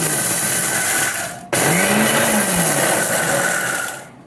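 A Bosch Truemixx Bold MGM4334BIN mixer grinder dry grinds roasted coriander in its medium jar on pulse. It gives two loud, close whirring bursts separated by a brief cut, the motor pitch dipping and rising during the second.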